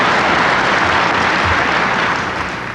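A live audience at a 1980 Republican presidential debate in Iowa applauds in a dense, sustained burst of clapping that begins to fade toward the end.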